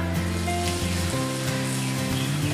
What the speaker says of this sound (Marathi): 1 तमालपत्र तोडून घेतलं आहे, 2 हिरवी वेलची आहे आणि थोडंसं जिरं अर्धा चमचा, हे आपण फोडणी टाकली याच्यावर